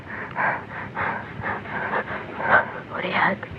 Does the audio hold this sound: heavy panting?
yes